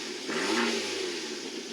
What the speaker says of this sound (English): you can hear that turbo spooling up as well, and so you have two distinctive sounds between the turbocharger and the exhaust pipe